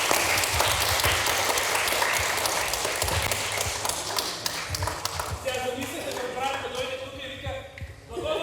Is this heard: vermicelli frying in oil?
no